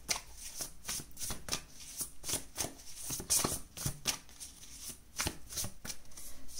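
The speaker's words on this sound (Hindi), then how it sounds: "सो सबसे पहले हम निकालते हैं 3 कार्ड्स आपके पास्ट के लिए" Tarot cards are shuffled and drawn by hand in a quiet room, giving a close, soft run of rapid riffles and slaps in irregular bursts, with no speech.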